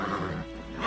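A horse in The Witcher 3: Wild Hunt neighs in a short, loud whinny under a low rumbling game background. No talk.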